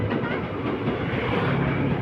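A train rumbles steadily along the tracks with a continuous low roar and faint rhythmic clatter of wheels, heard from inside or close by.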